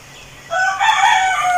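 A chicken in a Tamil village gives one loud, close crow that starts after a brief quiet moment and carries on to the end.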